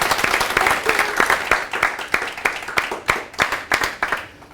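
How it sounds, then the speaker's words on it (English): An audience claps in a warm round of applause for a guest speaker at a rental property management talk, with individual hand claps clearly distinct in an uneven rhythm, fairly close. "give us a warm round of applause for Lakesha Kirkindall"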